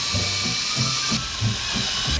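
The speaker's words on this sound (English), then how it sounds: "drill it out using an 1/8-inch pilot bit" An electric drill with a 1/8-inch pilot bit bores out a hole in a wall, a steady high whine with short repeated pulses of grinding as the bit bites.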